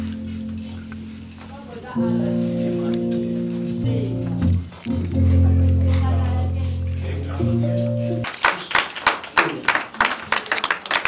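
Audience at a Congolese film awards ceremony clapping, heard as a burst of fairly close, brisk applause at the end after sustained music and voices.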